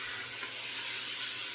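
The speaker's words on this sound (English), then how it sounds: "So we've got our bacon in here." Bacon sizzles in a hot cast iron frying pan on a glass-top stove, a steady bright crackling hiss close up, with no talk.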